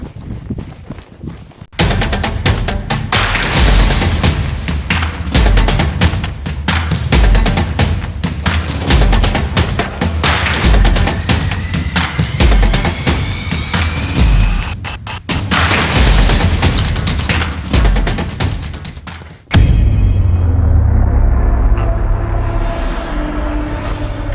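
Rifle fire during an elk hunt in Colorado, loud dense blasts and crackling echoes filling nearly the whole stretch with a sharp break near the end, outdoors and close, without talk.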